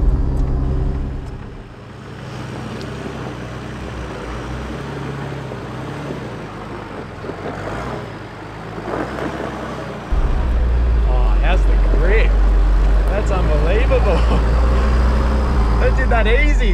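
A Nissan Patrol 4WD on bead-locked tyres at 14 PSI with modified suspension crawls up an off-road track, its engine a low, fluctuating rumble that surges louder partway through, with people talking over it.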